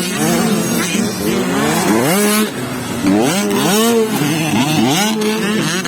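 Several 65cc motocross motorcycles race close by at a Valencia City Charter Day event, their engines revving hard and rising and falling in repeated pitch sweeps as they shift and accelerate toward the checkered flag.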